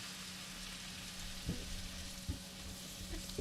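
Garlic parmesan risotto with beer added sizzles steadily in the pan, a faint, even hiss with a couple of soft spoon knocks as the rice is stirred.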